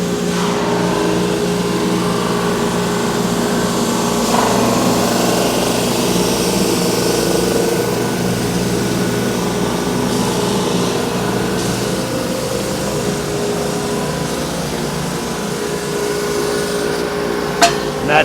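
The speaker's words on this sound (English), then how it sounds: "we just start pumping them through our sander right here" A board sander drones continuously at a steady loud level as deck boards are pushed through, a mechanical hum with faint knocks and clatter throughout and a sharp tap near the end.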